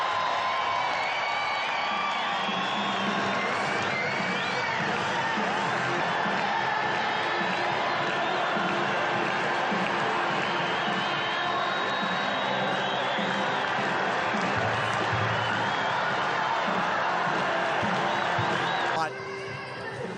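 A huge racecourse crowd roars and cheers for the champion mare Winx, a dense sustained wall of voices with whoops and applause running for most of the clip, cutting off near the end.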